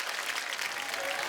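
Applause from a studio audience on a Hindi comedy talk show, a steady wash of many hands clapping together at a moderate level throughout the short burst, no voices standing out.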